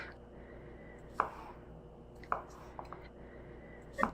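Quiet knife cuts as a paring knife tip slices through mushrooms on a cutting board, three or four crisp taps spaced about a second apart over soft background hiss.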